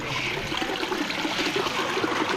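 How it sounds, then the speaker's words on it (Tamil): Steady running water trickling and splashing nearby beside Melmudi Ranganathar Temple, Coimbatore, a continuous bright wash of sound with no voices. "தண்ணி ஒன்று ஊற்றிட்டு இருக்கு பாருங்க."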